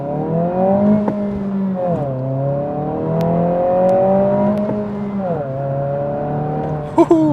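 A 2025 Honda Civic Si with its turbo four-cylinder pulls hard in first gear, the engine note climbing steadily in pitch through several rising sweeps with brief dips as the revs settle, loud and close in the cabin.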